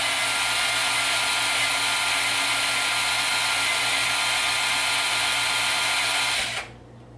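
A steady, loud electric drill mixing butter and sugar for cookies whirs continuously at close range, then cuts off abruptly near the end.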